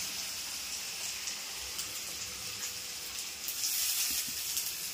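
Potato pieces frying in hot oil give a steady, close sizzling hiss that swells a little near the end, with no talk.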